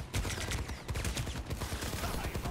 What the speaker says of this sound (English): it does indeed shoot Pharah rockets to the nearest person